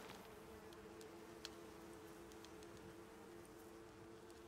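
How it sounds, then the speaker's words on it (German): Bees drone steadily in the game ICARUS, a faint continuous buzz with a few soft ticks scattered through it. "Tatsächlich, da oben ist eine Biene."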